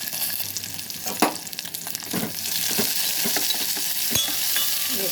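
A spoon stirs tomato rice made with brown rice in a hot pan, steady sizzling under repeated scraping knocks, close and fairly loud.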